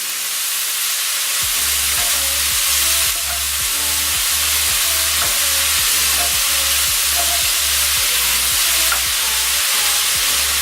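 Lamb and a medium onion frying in a pan, a steady broad sizzle with a regular low thumping pulse through most of the clip, loud and close with no talk.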